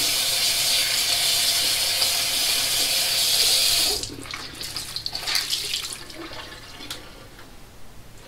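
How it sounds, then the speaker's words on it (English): Cold tap water gushes steadily into a sink for about four seconds, then cuts off, leaving faint drips and small splashing sounds. "Get some cold water on it."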